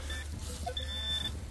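Metal detector giving short electronic tones while searching for coins, a couple of brief faint beeps over low background rumble.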